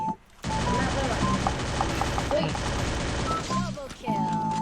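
Rapid automatic gunfire in a video game, dense and continuous bursts with a short quiet moment partway through, accompanied by game sound effects and tones.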